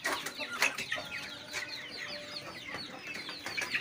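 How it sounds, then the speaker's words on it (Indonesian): Ayam siam chickens, Bangkok-crossbred village fowl kept in a simple coop, clucking and chattering in several overlapping calls at moderate distance over a light background hum, with no talk. "ini ayam kampung keturunan Bangkok yang dinamakan ayam siam"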